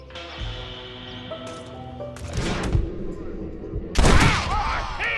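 Gunfire in the western video game Red Dead Redemption: two loud, sharp bursts of shots about two seconds apart, set over a busy game soundscape.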